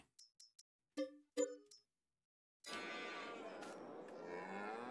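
A few short chimes and clicks, then a steady, drawn-out cow moo that carries on to the end, clear and close, from cows in Farming Simulator 22.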